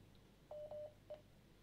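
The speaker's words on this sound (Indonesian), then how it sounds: "Langsung ada masuk telepon lagi." Telephone touch-tone beeps: three short, faint tones in quick succession, alone with no talk.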